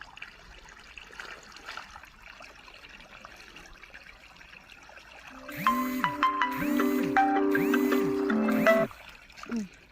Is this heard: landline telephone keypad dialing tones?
no